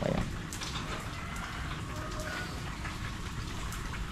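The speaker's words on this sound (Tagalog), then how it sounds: "bigla pong lumakas yung ulan" Steady rain pattering hard on outdoor surfaces, a dense even hiss with scattered drop taps at moderate distance, no voices present.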